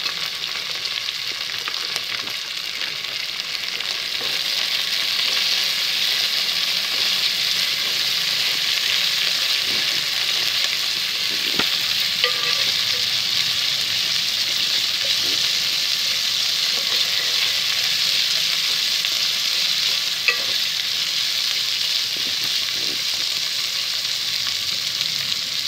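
Ginger garlic paste sizzles and fries in a pan, with a steady loud crackle running throughout and occasional soft scrapes of stirring.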